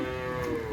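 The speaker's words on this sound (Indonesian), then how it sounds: "Ini sapinya." A racing bull at the Rosong karapan sapi field on Sapudi Island lets out a sustained low moo, loud and close, holding a steady droning tone throughout.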